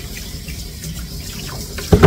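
Tap water runs steadily while a small Yorkie is rinsed during a full groom, a soft continuous wash with a louder splash or gush right at the end.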